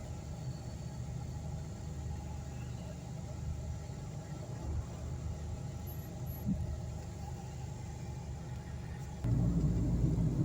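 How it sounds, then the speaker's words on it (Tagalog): Heavy traffic, including large trucks and trailers, crosses Tubli Bridge near Sitra Industrial Area, a steady low engine and tyre rumble that grows louder and closer near the end. "may mga sasakyan kasi mga truck na malalaki oh, mga trailer"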